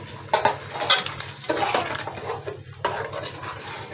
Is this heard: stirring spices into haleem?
yes